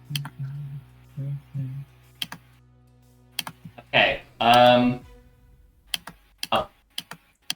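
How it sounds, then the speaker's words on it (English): Sharp, scattered clicks and clacks of a computer keyboard during an online tabletop role-playing session, coming in irregular bursts with gaps between them, under a low hum, with brief speech mixed in. "I can hear you clicking"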